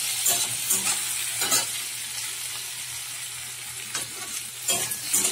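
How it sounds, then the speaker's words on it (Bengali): Vegetables seasoned with salt and turmeric being stirred in a frying pan, a steady sizzle under repeated scraping strokes of the spoon, close and alone with no talk. "পরিমাণ মতো নুন দিয়ে দিচ্ছি, হলুদও দিয়ে দিলাম। ভালো করে নাড়িয়ে চাড়িয়ে নিচ্ছি।"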